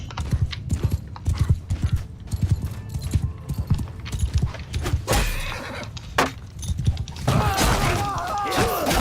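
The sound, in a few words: horse hooves in the video game Mount and Blade II: Bannerlord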